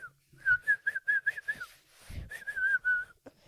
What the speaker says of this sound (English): The whistling scene.